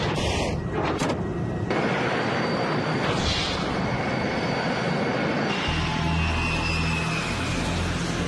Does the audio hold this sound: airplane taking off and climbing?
yes